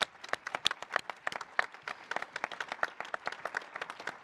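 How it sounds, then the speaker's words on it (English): An audience at the NAHT 2022 conference gives a round of applause. Crisp, distinct claps from a fairly small group keep up an uneven, lively rhythm, close and clear, with no talk over them. "Give her a round of applause"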